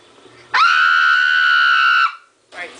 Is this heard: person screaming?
yes